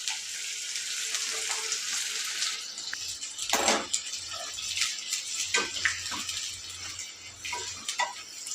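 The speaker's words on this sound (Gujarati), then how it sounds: "નૂડલ્સ બનાવવા માટે 2 ચમચા તેલ લીધું છે, એમાં આપણે ડુંગળી એડ કરી લઈશું।" Large chunks of onion fry in two spoonfuls of hot oil for spicy street-style noodles, giving a steady bright sizzle close by, broken by soft stirring clatters and crackles.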